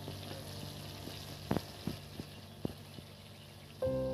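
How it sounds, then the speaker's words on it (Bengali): Shrimp and young jackfruit frying in a pan in a Bengali kitchen: a soft, steady sizzle with a few sharp clicks of a utensil against the pan, then a louder tonal hum near the end. "এবার এটাকে ভালো করে ভেজে নেবো বন্ধুরা।"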